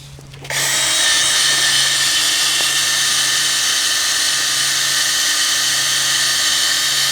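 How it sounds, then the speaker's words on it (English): A power drill spins a wire brush against a rusty brake rotor, producing a loud, continuous high-pitched whirring grind that starts abruptly and holds steady throughout. "As you can see, this wire brush is picking up this dust really good."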